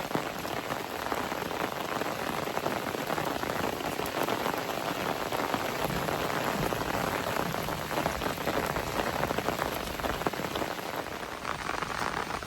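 Heavy rain pours down steadily, a dense, even wash of drops hitting surfaces nearby that holds at the same strength the whole time, with no voices.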